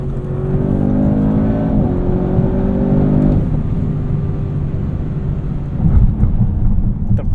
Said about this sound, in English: Let's go to RS2 mode, and let's see how this thing pulls.